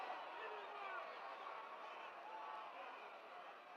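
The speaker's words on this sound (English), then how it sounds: "Listen to this crowd." A large crowd at a 1969 Houston wrestling match roars in a steady, distant wash of cheering and babble, filling the whole stretch without pause.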